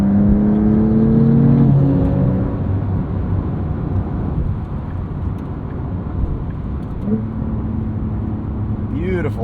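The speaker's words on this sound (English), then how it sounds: "Beautiful, effortless downshifts." A 2025 Porsche 911 Carrera S twin-turbo engine blips and revs loudly through rising and falling pitches on downshifts while driving, with a steady drone of road and wind noise underneath.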